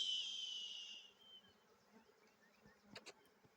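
A honeybee swarm hums at a hive, a high droning buzz that starts close and fades within a second, leaving faint background rustle and a couple of brief ticks.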